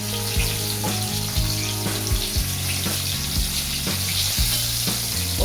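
Brinjals fry in oil over a medium gas flame as they are turned, giving a loud continuous sizzle close by with repeated clanks and scrapes of a spatula and a low steady hum underneath.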